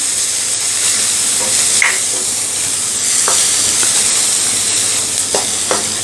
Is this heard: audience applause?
no